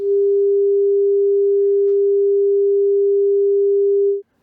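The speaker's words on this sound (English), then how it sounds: "Do it one more time and you find yourself at 400 Hz," A single clean 400 Hz sine-wave tone, slightly higher than a low hum, holds perfectly steady for about four seconds before cutting off.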